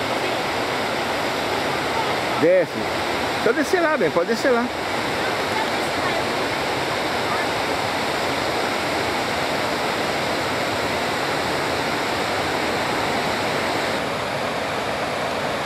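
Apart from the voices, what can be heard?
roadside waterfall rushing water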